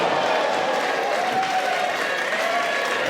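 A wrestling crowd claps and cheers in a dense, steady wash of applause that runs the whole time, loud and unbroken, with a commentator talking over it.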